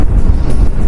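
Strong wind buffeting the microphone on a top-floor balcony of a mine's engine house, three stories up, a loud low roaring rumble lasting about a second with no other sounds.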